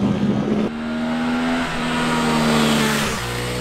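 Suzuki V-Strom 800 SE motorcycle engine accelerating in riding mode A, a steady rising drone with a brief shift-like drop early on, loud and close throughout with no talking.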